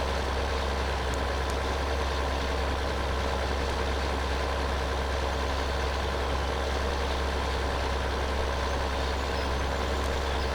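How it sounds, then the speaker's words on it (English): A Lamborghini tractor engine idles in Farming Simulator 2013, a steady low diesel rumble with constant broadband hum throughout, unchanging and uninterrupted. "this is the Lamborghini tractor, by the way"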